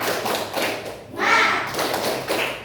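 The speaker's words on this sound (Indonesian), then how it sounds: "Tepuk semangat." A classroom of children doing a rhythmic Indonesian spirit clap (tepuk semangat), with bursts of claps and taps in a patterned beat and children's voices chanting along.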